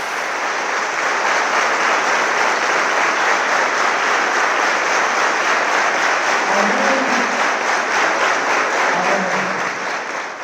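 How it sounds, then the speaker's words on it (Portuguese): A church congregation in Goiânia applauds together, a dense, loud, steady clapping that holds for about ten seconds with a few faint voices calling out beneath it. "palmas para Jesus"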